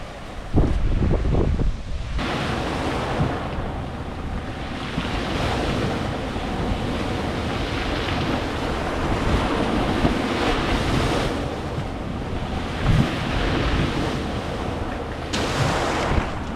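Sea waves at Byblos, Lebanon, washing in continuously with broad surges of surf, mixed with gusty wind buffeting the microphone, and no voices.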